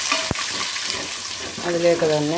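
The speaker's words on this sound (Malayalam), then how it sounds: "വഴറ്റുന്നു." Onion and green chilies sautéing in a pan for lemon rice give a steady sizzle, with a sharp clink near the start; someone speaks over the frying.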